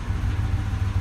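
A Ford F-250 with the 6.2 engine and a broken valve spring idles rough and uneven, a steady low rumble with irregular lumpy pulses from the misfire, close by with no talk.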